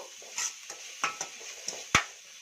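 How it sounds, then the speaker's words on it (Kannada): Ground masala paste frying in a pan for Sankranti bajji palya, soft sizzling broken by a handful of sharp clinks and scrapes of a spoon against the pan, close and fairly quiet. "ಈಗ ಇದನ್ನು ಕೂಡ ಚೆನ್ನಾಗಿ ಫ್ರೈ ಮಾಡ್ಕೊಳ್ಳೋಣ"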